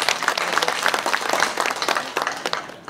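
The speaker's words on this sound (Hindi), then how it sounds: "मैं चाहूँगा ज़ोरदार तालियों से आप पशुपति कुमार पारस जी का यहाँ पर स्वागत करें।" Audience at a Lok Janshakti Party national executive meeting breaking into hearty applause, a dense, sustained patter of many hands clapping at once, filling the hall with no voices over it.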